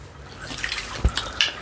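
Water splashes and drips unevenly while raw chicken is washed for a chicken Maggi dish, soft overall, with a couple of sharper splashes standing out.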